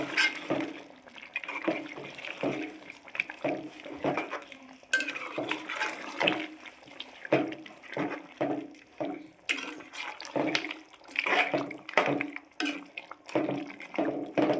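Country chicken and cashew curry is stirred in a pot with a metal spoon, making close, rhythmic clattering scrapes and clinks with a wet, liquid edge, repeating steadily throughout.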